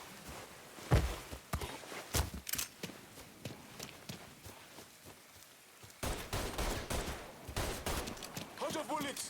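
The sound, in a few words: gunfire in Mafia 3 video game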